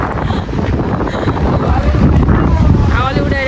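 Strong gusts blow across an open park in Newcastle, a loud continuous roar buffeting the microphone, with a voice talking through it.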